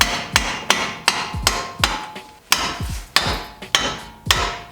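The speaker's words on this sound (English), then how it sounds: "then you just smack the breaker bar with the mallet." A rubber or wooden mallet strikes a breaker bar fitted to a car wheel bolt, with nine or so sharp, loud thwacks at an uneven, steady pace, each ringing briefly and dying before the next.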